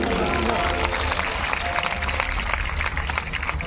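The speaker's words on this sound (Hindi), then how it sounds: "एक बार इस कर्मठता के लिए, इस भगीरथ प्रयास के लिए तालियां बजा दीजिए।" A crowd claps at a live concert in Nagpur, a loud, dense wash of applause sustained for several seconds, with voices and crowd noise mixed in.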